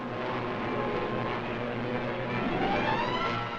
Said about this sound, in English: Enemy planes.